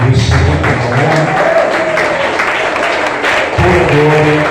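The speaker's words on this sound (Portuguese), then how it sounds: "Vamos aplaudir o Senhor" Church congregation applauding during a Sunday family worship service, loud steady clapping throughout, with voices and some tonal sound mixed in under it.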